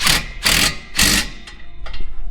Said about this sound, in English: Start with your long extension all the way over to the other side. You put your wrench on the bolt side. Snug that up.